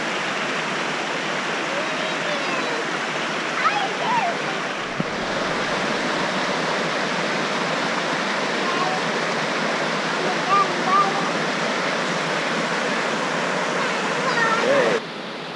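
Warm spring water, heated by volcanic activity, pours into the Rio Grande at Rio Grande del Norte National Monument, a loud, continuous rushing roar.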